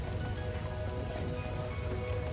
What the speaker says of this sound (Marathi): खूप छान असा पाऊस येतोय आणि आम्हाला पाऊस सुद्धा पाहायला मिळाला इथे आल्यावर.